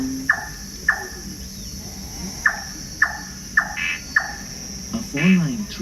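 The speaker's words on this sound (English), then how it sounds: "a four-line tree frog's trill," A four-lined tree frog calls in a Singapore forest at night, a series of short, sharp repeated notes at irregular intervals over a steady insect hum, followed by a brief voice.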